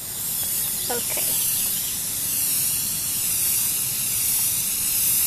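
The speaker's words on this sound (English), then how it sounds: "You're spray painting me." Steady hissing spray from a can of spray paint runs nearly continuously at close range, with a brief spoken word near the start.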